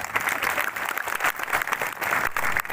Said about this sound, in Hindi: एक बार जोरदार सम्मान में ताली।